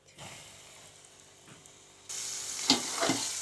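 Floured fish dropped into hot oil, a soft sizzle rising abruptly into a loud, steady frying hiss with sharper crackles and pops near the end.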